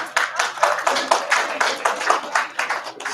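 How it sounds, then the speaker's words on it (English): Audience at a Chicago presidential forum event clapping steadily for about three seconds, a dense patter of many hands at moderate loudness with no speech over it. "Give yourself applause."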